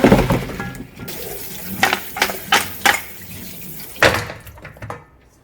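Blanched pork back ribs rinsed under a running kitchen tap, water splashing over meat and clattering against a metal bowl or sink in several short bursts, close and fairly loud.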